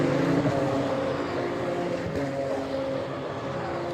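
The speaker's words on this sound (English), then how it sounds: "Accelerating now down into Melbourne hairpin." Ginetta GT Academy race cars accelerating at Donington Park toward the Melbourne hairpin, a loud continuous engine roar with layered tonal drones and no pauses across the span.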